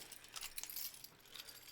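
A bunch of keys jangles as it is tossed, making faint, brief metallic clinks and rattles that come in a scattered flurry.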